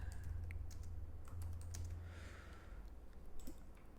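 Typing on a computer keyboard while entering an expense memo in accounting software: soft, irregular key clicks in scattered bursts, faint and close, over a low steady background hum, with no talking.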